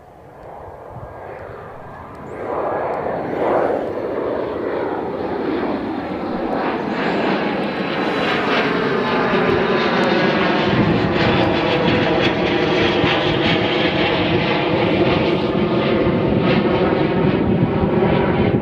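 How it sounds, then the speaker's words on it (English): Airliner taking off from a runway at Bristol Airport, a low rumble swelling into a loud, sustained jet engine roar that builds and holds steady close by. "Ascot 1110 taking off now."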